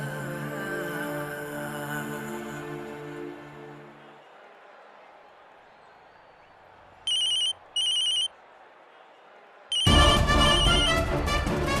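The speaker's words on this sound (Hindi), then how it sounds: "समीर जी फोन उठा नहीं रहे हैं" A telephone rings in two short bursts after a stretch of music and background murmur, then loud music returns.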